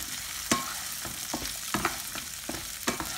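Oats mixture with boiled potatoes being stirred in a pan, a spoon scraping in soft repeated strokes about every half second over a steady low sizzle, close and fairly quiet.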